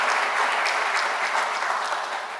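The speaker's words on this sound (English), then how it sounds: "let's give them a round of applause" Audience at an annual meeting applauding exhibit teams for a restored Chinese house display, a dense steady wash of many hands clapping at even loudness, fading slightly at the end.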